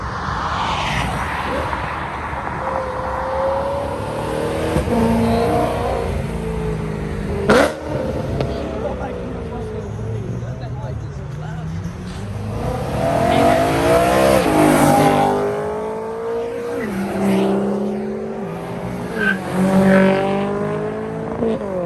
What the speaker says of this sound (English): Look at this BMW that's coming.